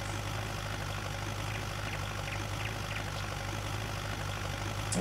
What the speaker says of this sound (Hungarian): Na igen, ennek meg kell a 110 lovas motor